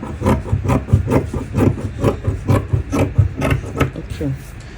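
Scissors snip through excess fabric on a blouse in a rapid, rhythmic series of close crisp cuts, repeating evenly for several seconds.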